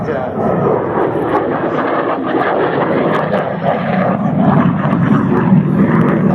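A jet fighter flies at the Wings Over Houston airshow, producing a sustained, loud, rumbling roar that swells slightly. Voices talk over it throughout.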